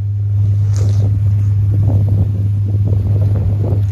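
A boat passes on the water at a fishing spot in Sydney, a steady low engine hum running throughout with wind buffeting and the wash of its waves close by.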